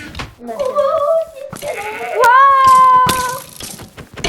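Several drawn-out bleats from sheep in a video game, fairly loud and close, with clipped game-like sound effects and clicks in between.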